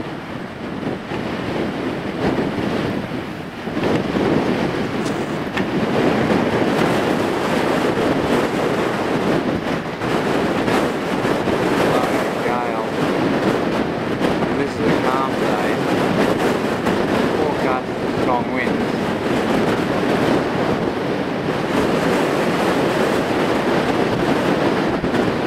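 Steady roar of ocean surf and wind where a river mouth meets the sea on a rugged Tasmanian coast, a continuous loud wash with gusty microphone buffeting throughout.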